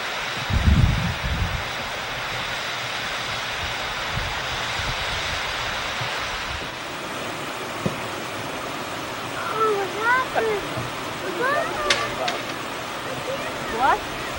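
Water from the Weeping Wall waterfall pours in a steady broadband rush with a low rumble at first, while people talk over it in the second half.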